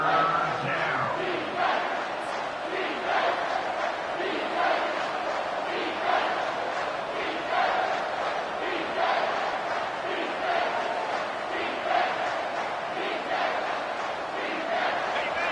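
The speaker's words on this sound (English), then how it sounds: "The crowd elevating its energy, willing this defense to get a stop on this big 3rd down" Stadium crowd in a Madden 25 / NCAA 25 football video game roaring steadily on a big third down, a dense sustained swell of cheering with rhythmic pulses, loud and continuous throughout.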